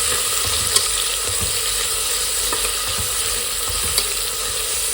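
Continuous sizzle of onions frying in oil in a pressure cooker, a dense steady crackle with an occasional scrape of stirring.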